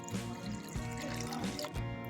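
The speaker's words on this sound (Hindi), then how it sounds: "अब इसमें हम पानी ऐड करेंगे" Water being poured onto two cups of washed chana dal for soaking, a steady close pour with a continuous splashing trickle running alone for about two seconds.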